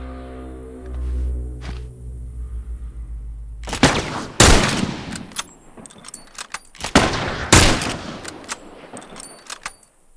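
Rifle shots crack out in a firefight in The Last of Us. A low mechanical hum comes first, then loud, sharp reports and bursts with metallic rattles in between, close and irregular.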